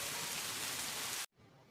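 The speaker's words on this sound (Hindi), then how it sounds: "ये बारिश की बूंदें कितना सुकून पहुंचा रही हैं।" Steady dense hiss of raindrops falling, loud and close, cutting off abruptly near the end into a faint background.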